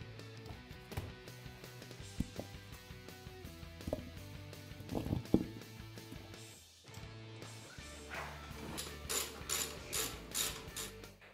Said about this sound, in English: we're going to tighten down these 4 pinch bolts to 15 foot-pounds